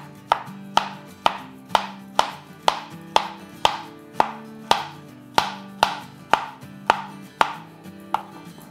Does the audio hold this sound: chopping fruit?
yes